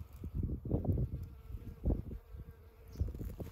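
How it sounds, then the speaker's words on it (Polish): Honeybees buzz over a rapeseed field, a close, fluctuating hum of several insects drifting near and away with no speech. "I to są moje pszczoły,"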